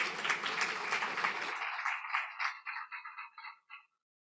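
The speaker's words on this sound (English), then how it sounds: "Keep that applause going as he comes as well" Audience applause at a capital markets conference as a CEO walks to the stage, dense clapping from a crowd that thins out and dies away into a few scattered claps.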